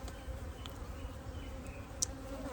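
Honey bees in a top bar beehive give off a steady, close buzzing hum that runs throughout, with one brief sharper sound near the end and no talking.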